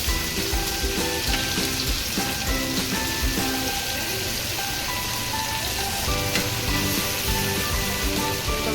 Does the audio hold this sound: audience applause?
no